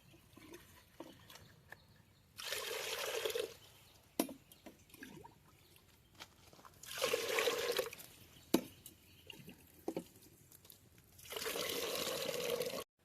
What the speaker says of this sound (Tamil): நம்ம அளவு தண்ணி ஊற்றிக்கலாம்